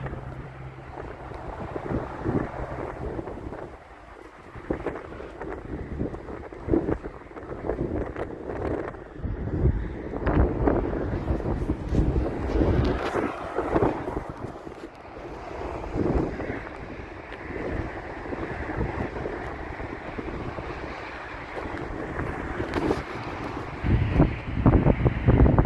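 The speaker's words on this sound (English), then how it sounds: "That's all I'm going to give you because the wind's so bad." Heavy wind buffets the microphone throughout, a loud continuous low rumble with gusty surges and no talking.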